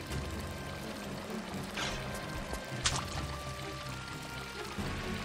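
Water poured from a full small waterskin into an empty large one in Tomb Raider 4, a soft continuous pouring trickle over a low steady game ambience, with a couple of brief splashy bursts.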